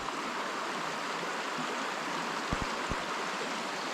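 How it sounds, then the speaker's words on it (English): A creek flows at night in a steady, broad rushing hiss that stays even throughout, with a few faint low knocks near the end and no voices. "That's the creek."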